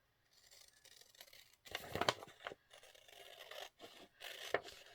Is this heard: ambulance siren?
no